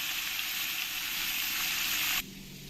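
Silver carp pieces fry in hot oil with a loud, steady, close-up sizzle that cuts off abruptly near the end, leaving a quieter hiss.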